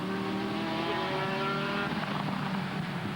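A Ferrari sports racing car in a 2000 Sportscar World Championship race roars away, its high engine note steady and loud, then fading slightly as it pulls off into the distance.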